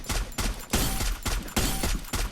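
Loud, close bursts of rapid gunfire in a mobile shooter game tournament match, about six short volleys in quick succession with brief gaps between them.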